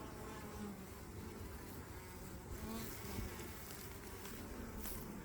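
Honey bees buzz steadily around a nucleus beehive in autumn, a soft continuous drone of many insects close by with no talking.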